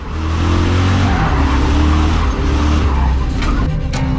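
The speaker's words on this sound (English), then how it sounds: "I need to drift my rear tires through these boxes wherever they're drawn." A car drifting in the A-Group, its engine droning loudly as the rear tires skid in a sustained screech, heard close with no talk.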